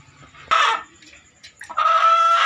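A brooding hen sitting on eggs in a brick-supported nest gives close, loud clucks in two bursts, a short call followed by a longer, drawn-out cackle, with faint rustling between.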